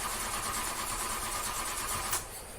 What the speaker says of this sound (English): Oh no, we're having car trouble.